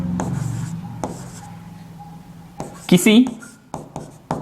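Chalk or marker writing on a board, with short scratchy strokes and taps in an irregular rhythm, heard close and moderately loud while someone speaks Hindi between and over the strokes.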